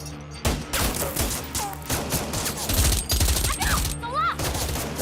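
Rapid bursts of gunfire ring out through a police action film scene, dense overlapping shots layered with music and effects, loud and sustained across the whole stretch with a few sharp whistling streaks near the end.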